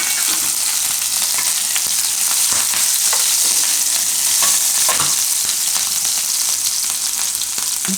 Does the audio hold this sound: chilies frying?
yes